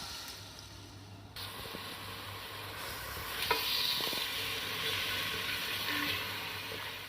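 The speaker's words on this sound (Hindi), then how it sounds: "अब हम इसको फ्राई कर लेंगे। 3 टेबल स्पून हमने ऑयल लिया है। अब इसमें हम चिकन डाल देंगे।" Chicken pieces dropped into three tablespoons of hot oil in a pan, a steady hiss and sizzle rising after a brief clatter and continuing evenly, with a few spatters and no talking.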